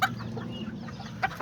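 Clucking from a small hen among roosters in a backyard flock, a few soft clucks scattered over steady low barnyard murmur, with two sharper calls near the end.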